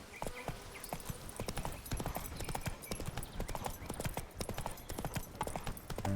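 Hooves of Roach, the horse in The Witcher 3: Blood and Wine, clip-clop in a steady, fast rhythm through a busy village, close and continuous with no speech over them.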